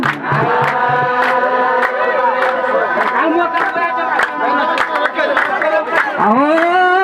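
An audience claps in steady rhythm while loud singing and chanting voices carry on over it, the sharp beats of the claps recurring evenly beneath the singing.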